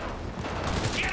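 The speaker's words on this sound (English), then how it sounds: "Oh my God, explosions." Explosions and gunfire in the video game Cyberpunk 2077 form a dense, continuous burst of combat noise, steady and fairly loud throughout with no clear pauses.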